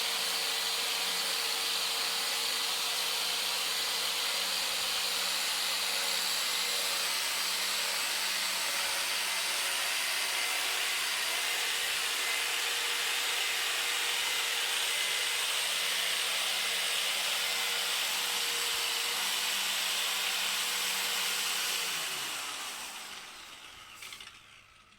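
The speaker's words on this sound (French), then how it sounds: "on va continuer le ponçage sur les autres faces" A power sander working over the faces of an old wooden beam, a loud steady whirring drone held for over twenty seconds before winding down to silence.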